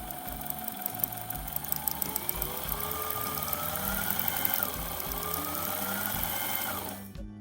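A sewing machine winds a bobbin with a steady, close motor whir and a faintly rising whine that runs for about seven seconds, then cuts off abruptly.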